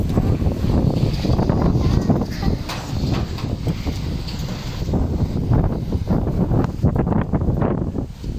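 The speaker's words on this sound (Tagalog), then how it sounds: "Grabe, ang lakas ng hangin." Strong wind blows continuously on a windy day, a loud, steady roar buffeting the microphone with gusty rumbling throughout and no let-up.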